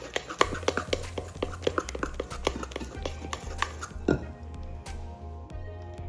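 Apple cinnamon coffee cake batter from a box mix is stirred in a bowl, a steady run of close, sharp spoon clicks and scrapes that thins out toward the end.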